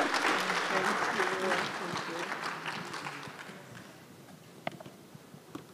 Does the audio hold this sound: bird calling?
no